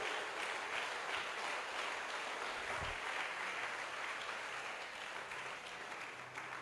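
A church congregation claps for God during a sermon, a soft, steady patter of applause spread through the room, continuing evenly throughout.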